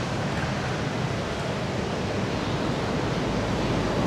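Ocean waves make a steady, rushing roar of surf with no pauses and no voices, at My An beach in Da Nang, Vietnam.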